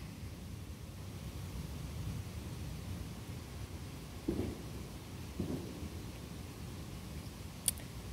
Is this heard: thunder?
yes